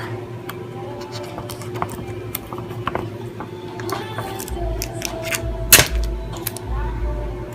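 Adhesive tape is drawn from a desk tape dispenser and torn to join two paper sheets, with soft scattered ticks and one sharp tear near the end, all close and quiet over a low room hum.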